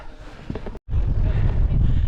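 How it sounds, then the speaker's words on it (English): Strong wind on a rocky mountain summit in Yorkshire buffets the microphone in heavy, rumbling gusts, broken by a brief moment of silence. "it's quite windy here"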